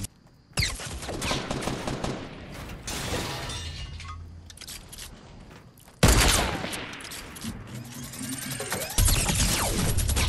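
A minigun in a video game fires in loud, rapid mechanical bursts, a long whirring volley followed by two more sudden blasts of dense clattering gunfire, with no talk over it.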